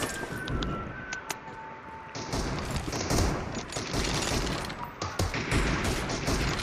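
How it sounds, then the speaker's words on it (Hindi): Gunfire in the battle-royale video game Garena Free Fire comes as dense bursts of rapid shots with booms and impacts. The firing is loud and sustained throughout. "अब्दुल्ला कितने गोलियां मारूं तेरे को"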